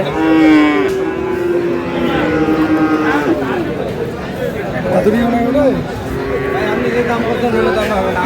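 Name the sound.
Friesian bull calf at cattle market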